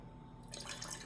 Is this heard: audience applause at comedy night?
no